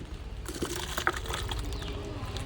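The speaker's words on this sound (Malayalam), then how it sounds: "അത് കുറച്ചെടുത്തിട്ട് നമുക്ക് നമ്മുടെ ചീരയ്ക്ക് ഒഴിച്ചു കൊടുക്കാം" About half a cup of homemade organic liquid slurry fertilizer is poured onto young spinach plants, giving a faint, brief trickle and splash of liquid against quiet background noise.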